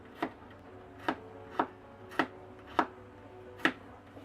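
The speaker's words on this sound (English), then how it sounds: "I'm just gonna slice it kind of thinly" A knife slices thinly through food on a cutting board in six evenly spaced crisp taps, close and quiet with no talk.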